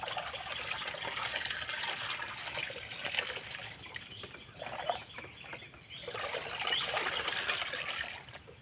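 Water being stirred by hand with a white vaccine powder for broiler chicks, a continuous close sloshing and trickling swirl that pauses briefly midway, with a faint hint of chicks in the background and no speech.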